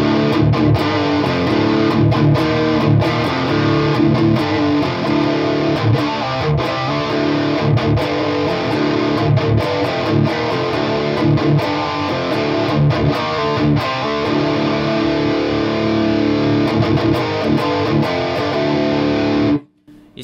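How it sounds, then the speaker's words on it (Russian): Distorted electric guitar metal riff played through a Mesa/Boogie Rectifier recording preamp with an overdrive boost, dense and loud throughout with palm-muted chugs, cutting off abruptly at the end. "А сейчас мы послушаем рифовый звук Mesa."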